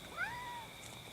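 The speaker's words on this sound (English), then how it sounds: "There's a cat." A cat up in a tree gives a single rising-then-level meow, fairly quiet and slightly distant, over low background hiss.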